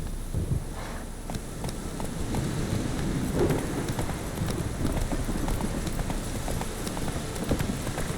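A horse gallops in The Witcher 3: Wild Hunt, steady rapid hoofbeats clip-clopping close by over outdoor ambience like wind and light rain.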